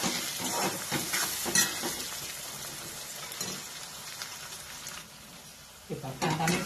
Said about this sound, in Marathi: आता याच्यामध्ये टोमॅटो घालायचा आता एक पाच मिनिटं चांगलं हलवायचं